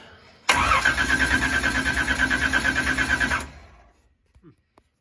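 A car engine cranks on its starter button without catching, a steady, rhythmic churning that runs about three seconds and then stops, followed by a few faint clicks.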